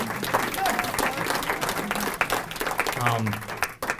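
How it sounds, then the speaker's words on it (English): Steady applause from an awards ceremony crowd fills the room, many hands clapping at a moderate level with faint murmurs and a brief voice-like tone mixed underneath. "if ever we give her a round of applause, it'd be great"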